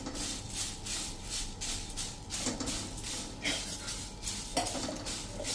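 Puffed rice stirred and dry-roasted in a pan over a medium flame, giving a steady rustling scrape with light metallic clinks of the spoon against the pan throughout.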